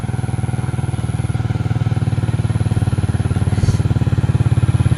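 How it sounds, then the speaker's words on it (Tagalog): Motorcycle engine idling close by, a steady loud rapid low putter throughout with a slight rattle, running alone. "May motor dito."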